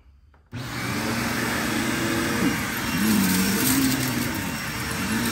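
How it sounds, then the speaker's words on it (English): A Bissell Power Trak 6592 upright vacuum cleaner switches on after a brief silence and runs on carpet with a loud, steady motor drone up close, with no talking. "I guess a better test would be to lift up this carpet and vacuum the padded down carpet here"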